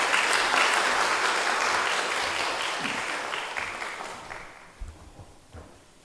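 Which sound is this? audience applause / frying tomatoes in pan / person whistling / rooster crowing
audience applause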